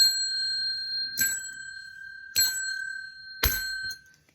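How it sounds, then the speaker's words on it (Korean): A small bell is struck three times at spaced intervals, each strike a sharp, close ding with a clear ringing tone that decays slowly in a quiet room. "이 종이 있습니다."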